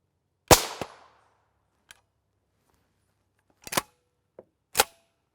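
A Kel-Tec pistol fires at a Level IIIA ballistic backpack at an outdoor range: a loud close report, then several sharper separated bangs spaced over a few seconds, with silence between them.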